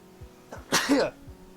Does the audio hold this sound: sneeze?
yes